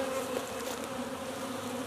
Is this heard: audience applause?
no